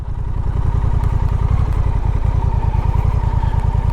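A Honda Rebel 1100 motorcycle being ridden, its engine giving a loud, close, steady low throbbing rumble with a rapid pulsing beat throughout, with no voices.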